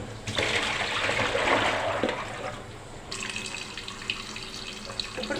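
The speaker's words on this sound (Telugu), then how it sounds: "ఇప్పుడు పిల్లల నీళ్ళతో కడుగుతున్నాను." Running tap water pouring steadily as something is washed, loud and close, its tone shifting partway through with no talking.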